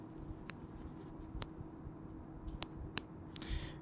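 Pen or chalk writing out an algebra equation in a quiet room, short scratchy strokes and taps coming in irregular bursts, faint and close, with no talking.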